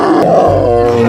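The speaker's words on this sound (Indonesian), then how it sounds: "Wow, di bawahnya ada seekor singa" A loud lion roar, likely from a toy found in rice fields, rumbles deep and close as a single sustained growling burst, with no voices over it.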